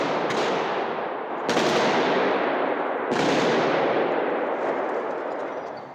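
Gunfire echoes inside the Crocus City Hall entertainment complex near Moscow, three loud bursts of shots at spaced intervals, each trailing into a long reverberant wash that fills the space.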